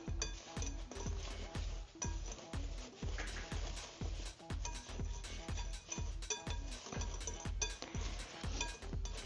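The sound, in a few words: stirring a cornstarch mixture for bath bombs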